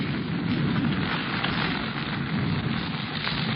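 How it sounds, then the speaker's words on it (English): Heavy rain pours down in a dense, steady hiss in a radio drama, a loud continuous wash of drops with no pauses. "It's raining."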